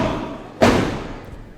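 A wrestler is body-slammed onto the ring mat, a single loud, close thud with a short rumbling decay over faint background noise.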